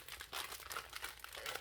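Plastic Ziploc bags holding diamond painting drills crinkle close up, a short, continuous rustle of handled plastic with no talking.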